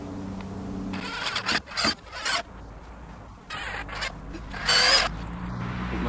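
A power drill drives screws into stacked pallet wood for a campfire bench, with several short bursts of whirring and grinding separated by pauses, plus rubbing and handling noises between them.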